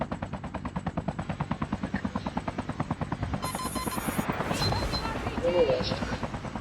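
Rapid machine-gun fire from a helicopter in the mobile shooter game Call of Duty Mobile rattles in a steady, loud burst over a thrumming rotor, then gives way to a rush of explosion-like noise near the end.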